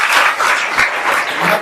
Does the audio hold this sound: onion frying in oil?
no